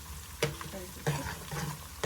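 Spices, garlic paste and garam masala fry in a pan for a Hyderabadi chicken dum biryani, giving a soft, steady sizzle with a few sharp stirring clatters and scrapes close by.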